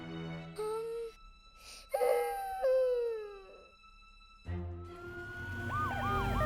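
Cartoon emergency vehicles, including a fire truck, an ambulance and a police car, sound their sirens in repeated rising and falling wails and warbles, layered over each other and growing louder toward the end.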